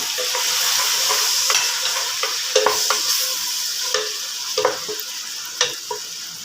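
Tomatoes and green chillies sizzle and fry with onion in a pan, a steady close hiss broken by scattered stirring clatters and ticks, with no talk.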